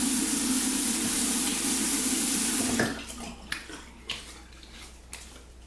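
A razor is rinsed under a running tap while shaving: a loud steady rush of water for a few seconds, then the flow stops and a few faint taps and drips follow.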